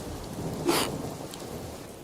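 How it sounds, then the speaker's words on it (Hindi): Rain falls as a soft, steady hiss, broken by one brief, louder rushing burst before it settles back to a quiet patter. "एक तो बारिश हो रही है"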